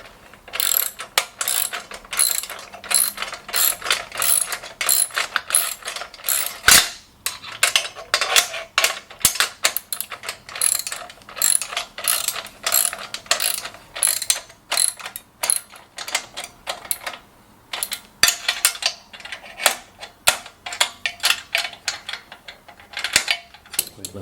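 Ratchet wrench clicking rapidly in bursts while tightening bolts on a VEVOR 3-in-1 hand trolley cart, close and crisp, with brief pauses between runs of clicks and no talking.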